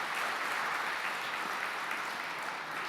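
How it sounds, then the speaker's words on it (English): Steady, dense audience applause at a Bitcoin industry conference, loud and sustained throughout with no talk over it. "Big round of applause for"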